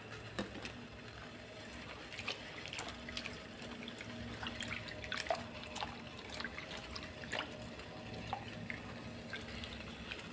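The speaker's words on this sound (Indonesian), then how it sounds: "airnya udah mendidih ya teman-teman" Water for cooking vegetables bubbling and burbling in a pot, a quiet, steady liquid churn with faint pops and small splashes heard close, with no talk.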